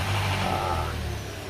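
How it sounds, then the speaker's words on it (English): A car engine turns over and catches before an oil change, a brief loud burst of starting roar that settles into a rough idle rumble. "So we're going to start this car right now, and we're going to show what it sounds like"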